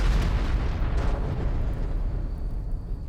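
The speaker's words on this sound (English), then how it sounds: "that droid decided to self-destruct instead" An enforcement droid in RimWorld self-destructs in a loud, sustained explosive roar, a broad rumbling blast that slowly decays over a few seconds with no talk.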